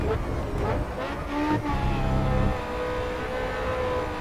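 A racing car in the video game Grid Autosport drifts through a corner, its engine droning loudly with a tonal whine that rises and falls, a brief tire squeal in the middle, and someone talking over it.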